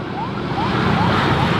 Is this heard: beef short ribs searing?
no